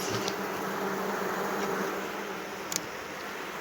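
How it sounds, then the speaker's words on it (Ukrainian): Honey bees, Carniolan, swarming around a wax-foundation frame lifted from a hive, a dense continuous buzzing hum, close and steady, with a faint click near the end. "Йдуть пчолки"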